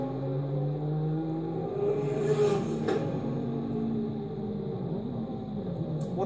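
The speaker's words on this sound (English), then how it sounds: "You forget the particular engine notes that these cars had, all so distinctive." A Group C sports-prototype race car at a Goodwood demonstration, its engine note rising and falling through revs over a continuous mechanical drone, moderately loud with no talk.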